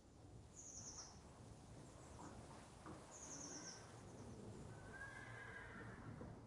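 Horse in a stable in a video game neighing in a high, shaky whinny, heard twice with a pause between, over a quiet ambient bed with faint bird chirps and soft clopping.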